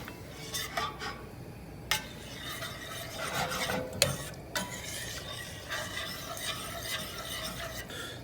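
A spoon scrapes and stirs mustard gravy in a pan, soft intermittent clinks and scraping strokes over a faint low background, fairly quiet and close, without any talking.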